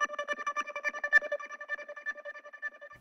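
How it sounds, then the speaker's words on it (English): Drum and bass transition effect: a bright, tonal chime-like pattern of rapid rhythmic pulses that thins into a sustained, slowly fading ringing tone, heard alone and fairly soft. "Now I also have some transition effects here, and this one sounds like this."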